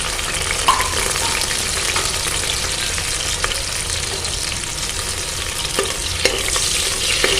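Fennel seeds, shallots and green chilies frying in hot oil give a loud, steady, dense sizzle with occasional stirring scrapes and clicks, close up and continuous without any talking.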